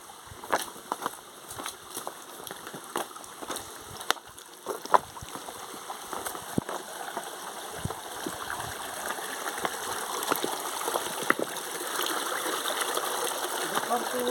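Waterfall in Similipal sanctuary, Mayurbhanj, with a steady broadband rush of flowing water that grows denser toward the end, broken by scattered clicks and splashes close by.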